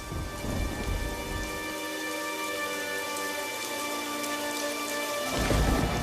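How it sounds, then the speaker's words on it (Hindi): Heavy rain pours in a cold-weather storm, a dense continuous roar of falling water with low rumbling swells at the start and end, set under a steady musical drone. "अचानक से जोर का तूफान आया और बारिश शुरू हो गई"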